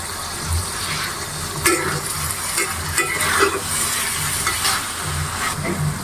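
Dried fish fries with bitter gourd in a pan, a continuous sizzle broken by repeated scraping and clinking strokes of a spoon stirring close by.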